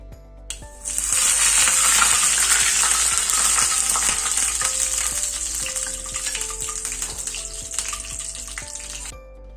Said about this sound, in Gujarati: રાઈ ફૂટી જાય એટલે તેના અંદર એક લાલ સુક્કું મરચું આઠ થી દસ લીમડાના પાન નાખીને વઘારને ચટણીની અંદર નાખીશું